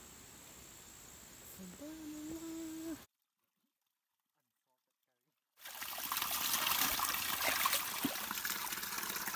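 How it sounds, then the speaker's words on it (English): Water trickling while vegetables are washed outdoors on a farm, a steady hiss that drops out to silence partway through and returns louder, with a brief voice-like tone early on. "My friend will be washing up this vegetable for champot"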